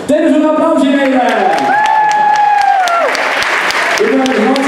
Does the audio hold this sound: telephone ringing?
no